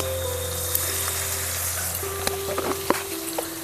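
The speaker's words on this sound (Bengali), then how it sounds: "মাংসটাকে ভালো করে কষিয়ে নেব" Duck meat frying in a pan with turmeric and salt, a steady close hiss of sizzling oil with a few sharp clicks and scrapes from stirring near the end.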